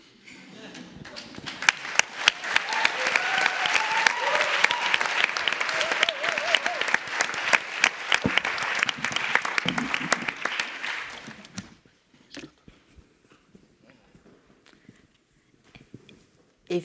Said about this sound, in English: give another round of applause for the Team Teilhabe